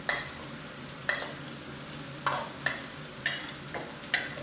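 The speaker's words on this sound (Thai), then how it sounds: "ใส่กระชายลงไปผัดครับ" Fingerroot (krachai) stir-fried in a wok over high heat, sharp spatula scrapes against the metal about every second over a constant bright sizzle, close up with no voices.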